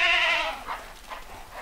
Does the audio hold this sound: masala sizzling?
no